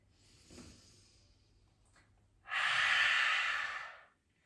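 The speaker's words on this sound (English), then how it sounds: "Nice and slow, inhale through the nose." One slow, deep inhale through the nose during a yoga session, a close, airy rush that swells and fades after a faint earlier breath, with no talking.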